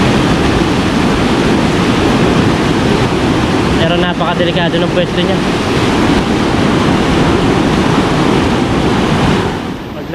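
A strong rushing current pours loudly and steadily where people are fishing, a dense unbroken roar with wind buffeting the microphone, while a person talks briefly partway through.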